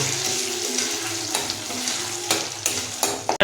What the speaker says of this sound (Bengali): এবার সুন্দরভাবে হাতা সাজিয়ে এটাকে কিছুক্ষণ নেড়ে নেব